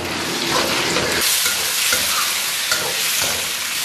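Lean pork stir-fried in hot lard with scallion, ginger and garlic gives a loud, continuous sizzle close by, with stirring scrapes and clatter running through it and no voices.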